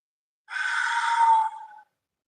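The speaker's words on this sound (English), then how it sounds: "You are literally breathing like the ocean." A single deep ocean-style breath, breathed in through the nose and pushed out through the mouth, heard up close as a breathy, hissing exhale of about a second and a half that tails off, with no talking.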